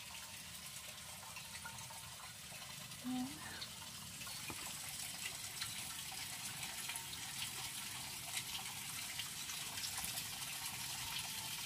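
Clear water flows steadily outdoors beside an open cooking area, a constant bright rushing hiss close by with a brief low knock near the start.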